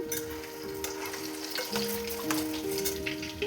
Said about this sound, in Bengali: গ্যাসের ফ্লেম একদম স্লোতে করে নাস্তাগুলো ভেজে নিতে হবে